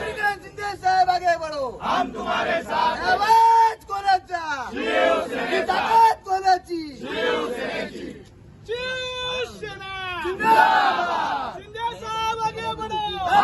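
Yuva Sena supporters celebrating in Thane, a crowd of voices chanting and shouting slogans in repeated rhythmic bursts, loud and close, with brief lulls between rounds of cheering.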